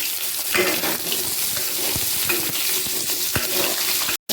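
Cut potatoes fry in hot oil seasoned with chilli and five-spice, a loud continuous sizzle close up, broken by a few sharp utensil scrapes and clicks.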